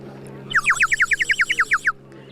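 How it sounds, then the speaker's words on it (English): A small water whistle bought at a historical fair booth gives a quick run of about a dozen bright, warbling bird-like chirps, evenly spaced and close, over a quiet hum of background. "I bought this little water whistle from a booth right over there."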